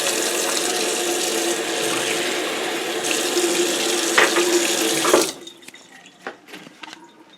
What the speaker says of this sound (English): And we're going to add some water until it's the proper height.